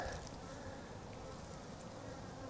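Bees in a hive buzz in a steady, soft, continuous hum, a close swarm droning with no pauses.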